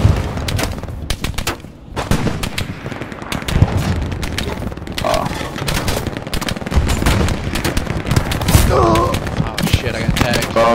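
Machine gun fire in the World War II shooter Hell Let Loose on the Carentan map, rapid bursts and scattered rifle shots crackling near and far for the whole stretch, with teammates talking over the gunfire.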